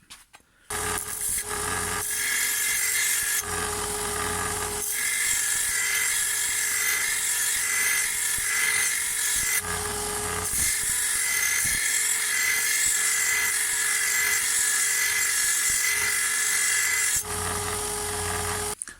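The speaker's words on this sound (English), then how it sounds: "just get my angle grinder just to touch up this little curved bit" An angle grinder touching up the curved edge of a Hyundai HYM480SPR lawn mower blade, loud and close, running in long continuous bursts with brief pauses between passes.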